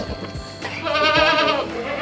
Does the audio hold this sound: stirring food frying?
no